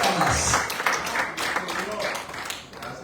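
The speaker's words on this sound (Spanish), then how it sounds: "Debe el aplauso, por favor." A church congregation applauds during a sermon, with scattered claps rising in separate bursts while a preacher's voice carries over them at moderate loudness.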